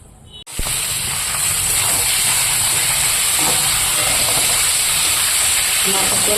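Black cumin seeds tempering in hot oil in a kadai give off a loud, steady hiss after a sudden burst, sizzling continuously close by without talk.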